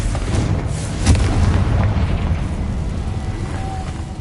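A Confringo explosion spell in the video game Hogwarts Legacy, a loud booming blast with deep rumbling low end that swells and rolls on for several seconds, heard alone.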